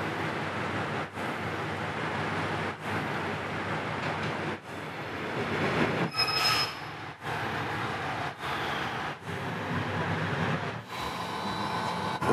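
A JR rapid train pulls out of Ritsurin station on the Kotoden-area line toward Takamatsu. A steady, rumbling hum of rolling wheels and motors is heard from inside, with brief rhythmic breaks at rail joints and a faint squeal partway through.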